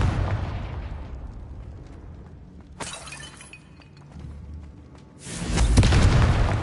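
Confringo spell explosion in the Hogwarts Legacy video game: a sudden shattering burst followed by rumbling, then a second loud, dense blast swelling near the end, with no talking.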